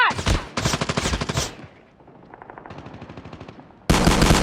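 Call of Duty gunfire: rapid automatic bursts crack out loud and close, then a quieter stretch of lighter, more distant rattling shots, ending in another sudden loud blast of fire.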